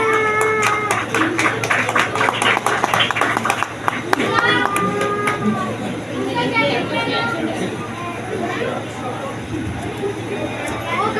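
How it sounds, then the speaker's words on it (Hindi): Sharp claps from a small crowd at a Christmas celebration in a church, close and uneven, taper into murmuring voices and chatter as the applause dies down. "आप सबकी तालियों में प्रीशा अंसार"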